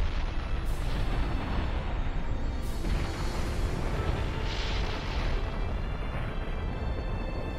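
A loud, sustained explosive rumble roars continuously in the video game Naruto Shippuden: Ultimate Ninja Storm 4, a Wood Style special attack, with a few sharper bursts layered over the dense, noisy blast.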